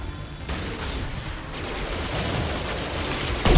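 Heavy gunfire in the Mass Effect 2 video game: a dense, continuous barrage of overlapping shots and impacts, fairly loud, with a sharper blast at the very end.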